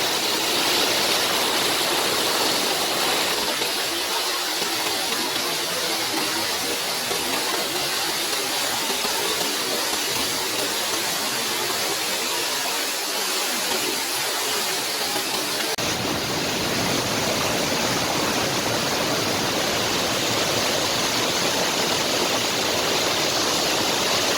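A waterfall in Kalam, Swat, Pakistan roars as a dense, steady rushing of falling water, loud and continuous from start to finish with no voices.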